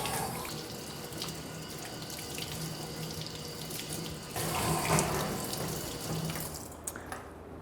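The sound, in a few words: rinsing breathing mask under running tap water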